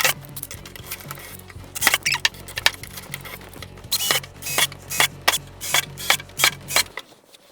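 Screws are driven in one after another to install a gear track on a jon boat, each producing a sharp, close series of clicking, ratcheting bursts in an uneven rhythm, with no talking.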